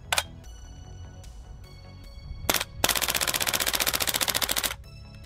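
An Umarex VFC MP5 SD3 gas blowback airsoft gun fires up close, with a few sharp single cracks followed by a rapid full-auto burst of evenly spaced snaps lasting about two seconds before stopping abruptly.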